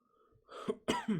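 A couple of sharp, close coughs in quick succession, the second one harsher and followed by a brief throaty rasp.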